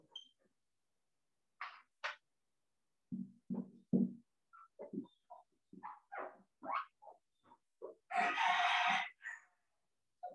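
A pet hen squawks and crows in loud, broken bursts of clucks and cries, ending in one long harsh screech, with no talk over it.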